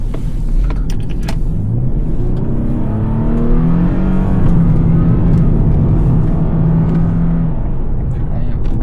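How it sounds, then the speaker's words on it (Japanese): A Toyota Crown's 3.5-litre V6 hybrid engine rumbles and climbs in pitch as it accelerates, a deep steady drone heard from inside the car. "この 3500cc エンジン、さすがの大排気量で底力がまるっきり違います"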